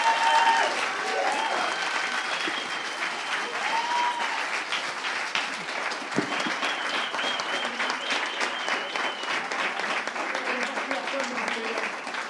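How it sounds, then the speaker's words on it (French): Audience at a talk on the mental health of independent entrepreneurs bursts into loud, sustained applause, a dense even roar of clapping with scattered cheers lasting the whole clip. "je pense qu'on peut vraiment l'applaudir très très fort"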